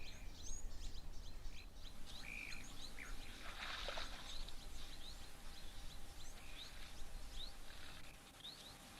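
Bishop birds chirp and twitter in reeds at an outdoor waterhole, with scattered thin calls over a constant low wash of background noise. The calls sound fairly distant and faint.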